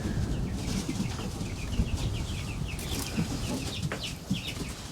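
Young hens on a flower farm give soft, steady clucks and cheeps over a constant low rumble of background noise, with no talking.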